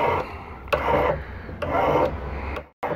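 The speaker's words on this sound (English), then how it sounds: "I'm only filing one way, and I keep my finger on the file" A hand file rasps across metal at a bench in single-direction strokes, four close, dry scraping passes with short gaps between them.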